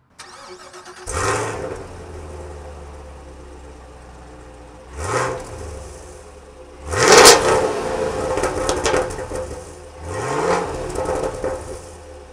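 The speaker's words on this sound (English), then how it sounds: "Man, this thing growls. Let's take an exhaust clip." A Chevrolet Camaro SS with a 6.2-liter, 455-horsepower V8 is revved four times from a low idle, each sharp throttle blip rising and falling back, loud and close with the exhaust growling between revs.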